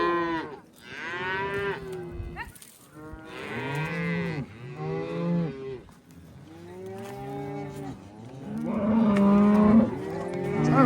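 Cattle moo loudly and repeatedly on a desert ranch on branding day, several overlapping calls from close by in steady succession with little pause between them.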